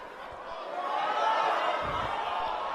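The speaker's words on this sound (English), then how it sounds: "Man, would you listen to that crowd?" A dense crowd at an indoor Halloween professional wrestling event in Philadelphia swells into a continuous roar of cheering and chatter, loud and sustained throughout.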